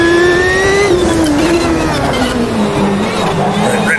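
A 1995 IndyCar at Long Beach in the racing game Automobilista 2 revs hard and loud up close, its engine pitch climbing then sagging as the driver works the throttle, with no talk over it.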